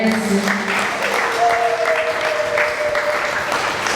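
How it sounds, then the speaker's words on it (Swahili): A congregation claps steadily at a church service, dense continuous applause filling the room, while sustained tones sound underneath. "Pigia tena makofi jina la Yesu."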